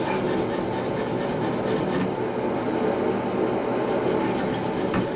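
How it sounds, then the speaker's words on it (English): A wire brush scrubs steadily at a brass Moen Pos-Temp faucet cartridge stuck in its housing, giving a close, continuous raspy scratching with quick back-and-forth strokes. "So this, a wire brush, it does not scar the brass."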